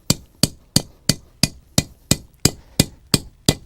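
A hammer drives a nail into a panel of M-Rock green building material, worked like wood: eleven sharp, evenly spaced strikes about a third of a second apart, close and loud with quick decays and no talk.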